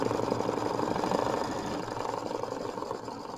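A sewing machine stitches fabric at steady speed, a close, rapid mechanical rattle of needle strokes that hums continuously and eases slightly toward the end, no talking.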